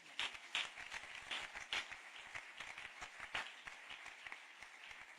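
A church congregation claps and applauds during a Sunday sermon, a scattered patter of hands at moderate distance, uneven and rhythmic, continuing for several seconds.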